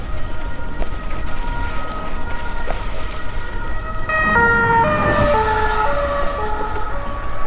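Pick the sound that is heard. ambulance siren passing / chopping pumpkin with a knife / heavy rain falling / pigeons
ambulance siren passing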